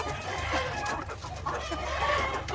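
Several chickens cluck continuously and close by, with overlapping calls over a low, steady background hum.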